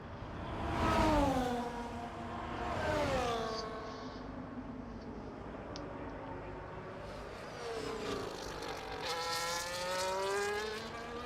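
Formula 1 cars in the F1 24 racing game at Las Vegas, engines rising and falling in pitch as they pass, with loud swells of sweeping whine and a steadier roar in between.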